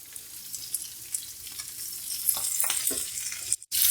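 Lengthwise-slit green chillies sizzle in hot oil with lightly golden onions in a pan while making mash daal, a steady close crackle with small pops and a brief stirring scrape near the end.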